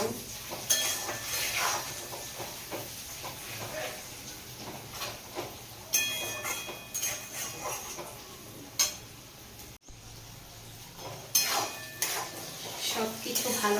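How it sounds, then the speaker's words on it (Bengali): Slit green chillies are stirred in a pan while cooking pointed gourd bharta, with intermittent clinks and scrapes of a spoon against metal over a soft sizzle, quiet and close. "এবার চেরা কাঁচা লঙ্কাগুলো দিয়ে দেবো এর মধ্যে একটু নাড়িয়ে নেব"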